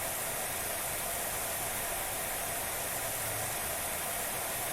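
Steady, loud broadband hiss of a pressure washer jet spraying continuously in the video game Powerwash Simulator 2, unbroken and even throughout with no talk.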